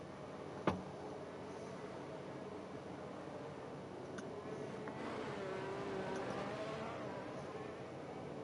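Race cars in the F1 video game at the Hungary Grand Prix drone steadily at a distance, with a sharp click near the start and engine pitch rising and falling later, all fairly faint.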